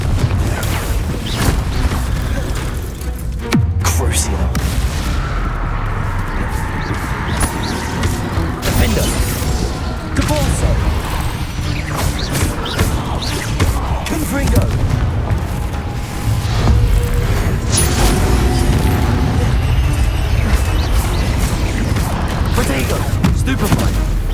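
Repeated Confringo spell blasts in the Hogwarts Legacy video game, loud booming explosions and crackling combat impacts layered over continuous battle noise and music, with a voice talking through the fight.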